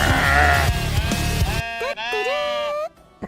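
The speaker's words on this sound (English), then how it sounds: "Where are you, sheep?" Sheep bleating in a castle-building video game, a few wavering bleats cutting through busy game noise, then clearer and louder near the end.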